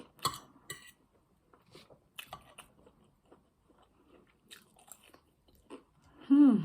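Egg is chewed during a mukbang meal of spaghetti, egg and plantain, with close, soft bites and mouth sounds in scattered bursts, followed by a brief vocal sound at the end.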